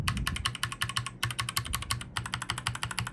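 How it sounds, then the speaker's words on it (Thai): Rapid clacky typing on a Royal Kludge RK61 mechanical keyboard with stock switches, close and steady, with two brief pauses between bursts of keystrokes. "เดี๋ยวมาฟังเสียงกันว่าสวิตช์เก่าเป็นไงอันนี้คือสวิตช์เก่านะ"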